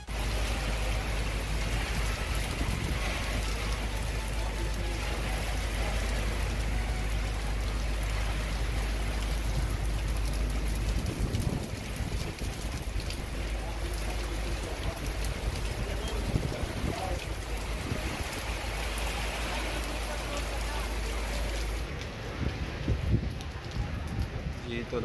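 Steady rain falls outside in a continuous wash, a dense hiss that lasts the whole stretch with some low rumble underneath and no voices.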